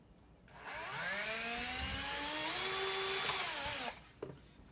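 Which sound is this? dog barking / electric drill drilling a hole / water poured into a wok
electric drill drilling a hole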